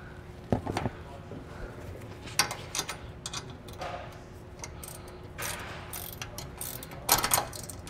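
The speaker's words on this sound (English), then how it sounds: "slide our flange nut over top of it. And you'll want to tighten and torque these down" A hand ratchet tightens flange nuts on a Lippert electric leveling bracket on a 2022 Forest River travel trailer, giving short bursts of rapid clicking spread across the moment, close by.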